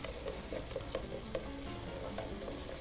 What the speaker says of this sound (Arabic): نقلوا الطماطم مليح مع البصل، فوالا نخلوه يتقلى